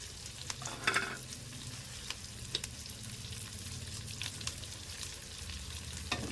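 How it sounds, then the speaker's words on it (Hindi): Capsicum sizzles on high heat in a pan for chicken jalfrezi: a steady, close frying hiss runs throughout, broken by a few louder stirring scrapes, with no voices. "बस इसको तेज आंच पे हमने फ्राई करना है, बस हल्का सा 2-3 मिनट के लिए"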